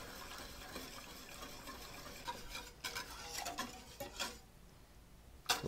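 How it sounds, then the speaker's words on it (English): Chocolate being whisked into hot milk in a pot until it melts, a steady busy scraping and swishing that runs close and continuous, with a few sharper clinks near the end. "I just whisk it until that chocolate's melted"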